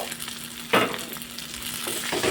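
Boiled potato stirred with turmeric and salt in a frying pan, a soft continuous sizzle broken by one louder scrape of the spoon near the start, with no talking.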